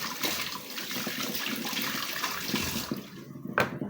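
Tap water runs steadily into a sink as food for a dog is washed, a continuous close splashing flow that thins out near the end.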